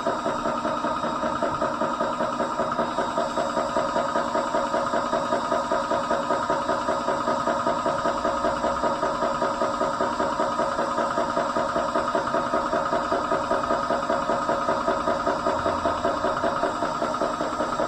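A TUXING PCP high-pressure air compressor runs steadily near 200 bar, a loud, continuous mechanical drone with a fast rhythmic pumping pulse and whine holding unchanged throughout, no voices present.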